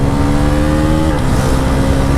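A Bajaj NS 400 motorcycle engine drones loud and close with a steady, harmonic-rich tone, shifting pitch slightly midway as the rider works down through the gears, with no talking over it.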